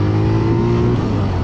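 A Benelli 150 motorcycle engine revs loudly and close by, a sustained droning growl with steady harmonics that dip slightly in pitch over the short burst.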